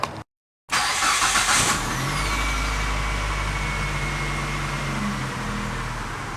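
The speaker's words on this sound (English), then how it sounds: "I can go ahead and start the car." A 2002 Mitsubishi Lancer, just fitted with a new alternator, cranks briefly after a short silence and catches, settling into a steady, close, loud idle with a low engine hum.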